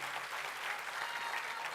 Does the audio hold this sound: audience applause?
yes